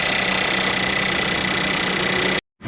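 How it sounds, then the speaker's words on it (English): A VW Jetta idles steadily with a constant engine drone as its AC compressor engages, the hum cutting out abruptly near the end. "So you'll hear when the compressor come in."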